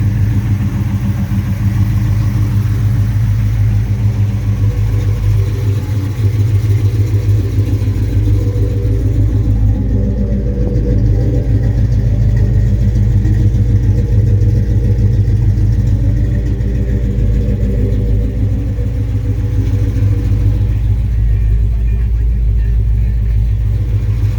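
A 1972 Chevelle SS convertible's original LS6 454 big-block V8 idles with a deep, steady rumble close by, continuous throughout with a faint voice in the background.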